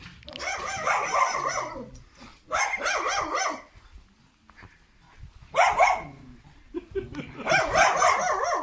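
Several dogs barking and yelping in loud, ragged bursts close by, with pauses between volleys and a voice speaking briefly.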